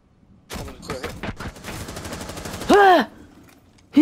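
AR rifle gunfire in Rainbow Six Siege rattles out in quick successive shots over a few seconds, loud and close, followed by a brief tonal game alert sound.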